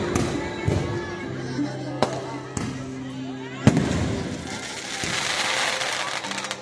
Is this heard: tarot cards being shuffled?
no